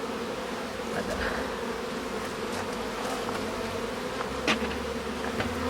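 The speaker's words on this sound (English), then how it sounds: "has all of the flying bees" A steady, soft drone of many honeybees flying around a nuc hive outdoors, continuous buzzing with occasional individual bees passing close by.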